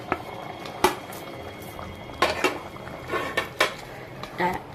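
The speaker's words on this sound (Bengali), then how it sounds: "এবার আমি প্রনগুলো দিয়ে দিচ্ছি। প্রনগুলো দিয়ে দিলাম," Prawns go into a pan for chili prawn, with bursts of metal utensil clatter against the pan over a bubbling, liquid cooking sound at close range.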